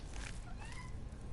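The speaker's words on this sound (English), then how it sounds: "if you can hear meowing in the background, it's just my cat." A domestic cat meows faintly in the background, a few soft drawn-out calls half buried in steady room noise.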